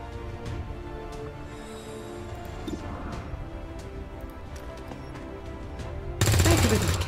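A grenade launcher fires in the game XCOM 2: game ambience and scattered clicks build to a sudden loud, broadband blast near the end, with a voice talking faintly in the mix.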